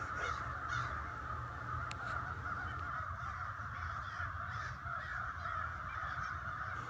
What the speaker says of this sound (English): That noise you hear in the background, well, those are migrating birds